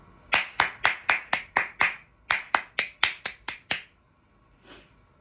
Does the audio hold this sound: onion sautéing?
no